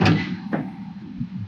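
Metal L bracket of a Ford Bronco vent window assembly sliding into the door cavity, a short scrape and bump with a sharper clunk midway, close and fairly quiet, with no talking.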